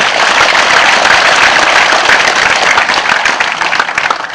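Sustained applause from a lecture audience at a New Year's talk, a dense steady wash of many hands clapping that stays loud throughout and tapers slightly toward the end.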